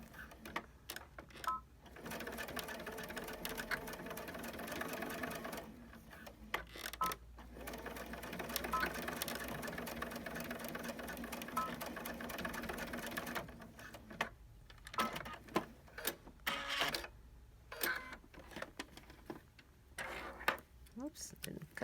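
A sewing machine stitches a fitted fabric mask in rapid mechanical bursts, running for several seconds, pausing and starting again, with a person talking quietly between runs.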